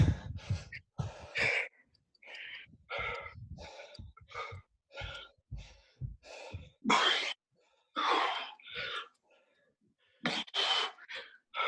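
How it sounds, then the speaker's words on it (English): Heavy, ragged breathing after a home workout exercise session, a series of loud gasping breaths and exhales in bursts with short pauses, close to the microphone and without talk. "Heavy breathing."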